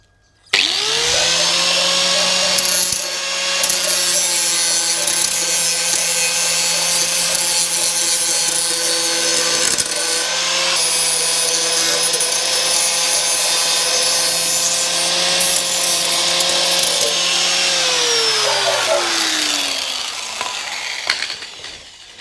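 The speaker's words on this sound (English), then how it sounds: "We cut and used the flap disc to clean it up." An angle grinder with a flap disc grinds metal during a 1969 Honda CD90Z restomod. It spins up to a loud, sustained whine with rough grinding texture, then winds down at the end.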